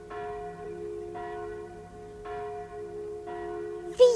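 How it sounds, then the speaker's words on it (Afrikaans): Church bells ring in a village in repeated tolling strokes, about four steady rings in a row with sustained humming tones between them, moderately loud and with no voices over them. "Luister, ons kan die klokke hoor."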